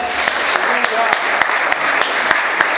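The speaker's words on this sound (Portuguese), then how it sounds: "você pode aplaudir a Ele nessa manhã" Church congregation applauding during a morning service, steady overlapping claps with sharper individual hits throughout, fairly close and continuous, with some voices mixed in.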